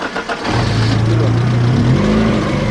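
A car engine starts and revs hard at a used-car dealership, a loud, close, sustained roar that holds steady for over two seconds with no voices over it.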